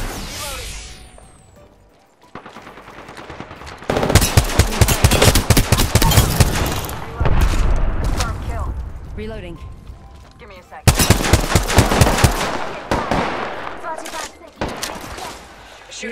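Bursts of rapid gunfire in a battle-royale shooter game, loud and close, arriving in several heavy volleys separated by brief lulls, with a player's voice speaking over parts of it.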